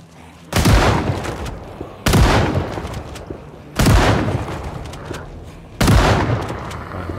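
Four loud, booming gunshots in the zombie game Alone In Raven Creek, spaced roughly evenly, each a sharp close blast trailing into a rumbling echo.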